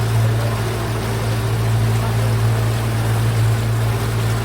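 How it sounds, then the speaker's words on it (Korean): A small boat crosses a lake at Sanmagi on Goesan's Sanmagi Old Road, giving a steady droning motor hum with continuous water rush, close and unbroken. "조그만 거쭉 배를 타고 시원한 호수물을 가로지르며 해석정은 달립니다"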